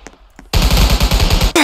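Video game gunfire in Gun Game mode: a loud, sustained burst of rapid automatic shots, close and evenly paced, following a couple of faint clicks and ending abruptly.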